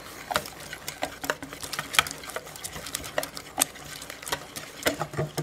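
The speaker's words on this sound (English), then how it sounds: "So we're going to whisk this up, mix it up real good." A whisk beats runny cheeseburger pie batter in a bowl with quick, uneven taps and sloshing strokes, moderately close and steady throughout, with no talking.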